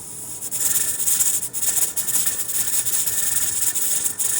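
Pressure canner weight jiggling atop a hissing stream of steam, a continuous loud high hiss with rapid rattling pulses and a few brief dips, close up, no talking.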